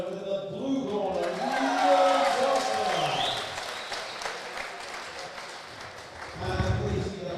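Crowd applause for boxer Kevin Murray after a unanimous-decision bout at an amateur boxing championship, a steady broadband patter that swells and fades under a voice speaking over it.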